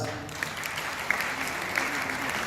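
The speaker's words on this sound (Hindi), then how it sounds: "तालियों की आवाज" Audience applause fills an award ceremony honouring an Ayurvedic doctor, a steady sustained clapping from the crowd heard alone.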